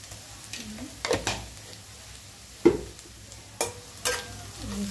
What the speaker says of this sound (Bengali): আমার পেঁয়াজ গাজর এগুলো একটু ফ্রাই হয়ে গেছে।